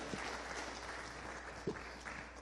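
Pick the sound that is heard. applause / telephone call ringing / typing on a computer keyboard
applause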